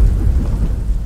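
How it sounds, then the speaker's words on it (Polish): Thunderstorm in the Slender Mansion horror game: loud, close rain with a deep thunder rumble running steadily through the whole brief moment, no voices. "Tak, burza też jest przerażająca."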